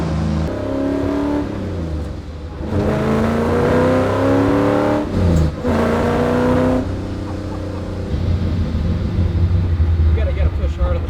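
Prototype Shelby GT350R engine accelerating hard, rising whine climbing through gears with brief shifts, loud and close from inside the car, with occasional talk over it.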